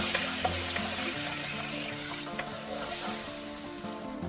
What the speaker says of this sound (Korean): 다시 팬에 기름 한 큰술 두르고 마늘을 넣은 다음 마늘향이 올라올 때까지 볶아준 다음